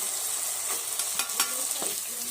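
Spices stirred into potato masala rice frying in a pan, a continuous close sizzle with scraping spoon strokes and a few sharper clinks, no talking.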